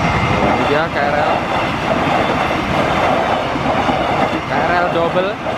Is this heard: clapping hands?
no